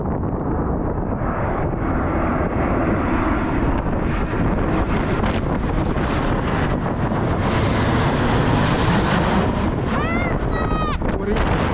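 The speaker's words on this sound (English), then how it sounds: "Now we know that this is A321 coming from San Francisco, and it's going to JFK, obviously." An Airbus A321 airliner bound from San Francisco to JFK passes overhead, its steady engine roar filling the scene amid gusty wind noise, with bird chirps near the end.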